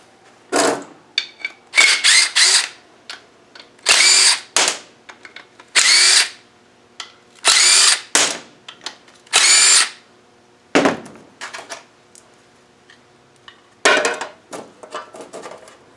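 A power tool whirs in short loud bursts, about nine separate runs with pauses between them, as it removes the cover bolts from a Land Rover Wolf LT230 transfer case, with light metallic clinks in the gaps.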